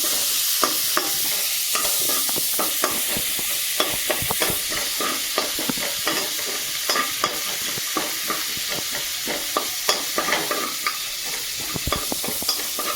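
Chopped onion frying in a pan, a steady loud sizzle with frequent sharp clicks and scrapes of a utensil stirring throughout, no voices.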